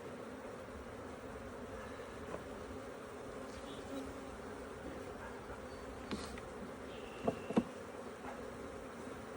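Honey bees at a farm apiary give off a continuous soft buzzing drone with a few faint clicks and knocks, and no talking.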